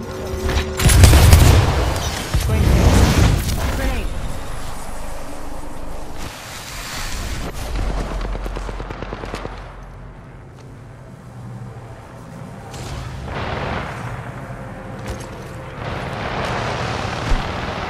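Grenade blasts in a battle royale video game: loud booming bursts near the start, then rumbling, debris-like crackle and softer explosive swells through the rest, with no speech.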